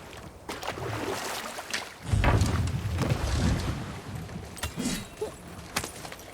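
A boat glides across water in the God of War video game, a low rushing wash of water and wind that swells loudly partway through and then settles, with no talk over it.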